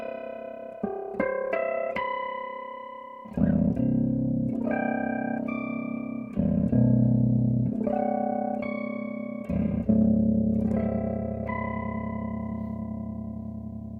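Electric guitar harmonics ring out through an Earthquaker Devices Hummingbird tremolo pedal, with bell-like chimes and then sustained chords struck roughly every three seconds, each pulsing with effect and slowly fading, played alone.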